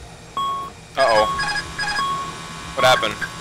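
Repeating electronic warning beeps from an autopilot disconnect alert in the X-Plane 11 flight simulator, heard as several short tone bursts over about three seconds, with a voice talking in between.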